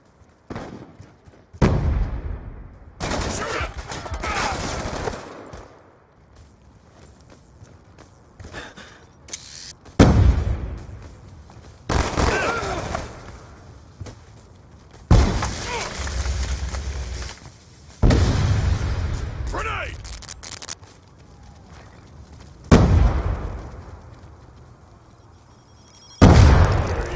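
Gunfire and explosions in the shooter Black Ops 2, loud bursts of shots and booming blasts arriving in separate clusters every few seconds, with quieter gaps between them.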